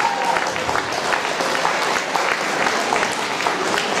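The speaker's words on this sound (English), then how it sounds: "Please give him a big round of applause" Applause from an audience at a community Children's Day event with a mayor present, continuous loud clapping for several seconds with scattered voices mixed in beneath it.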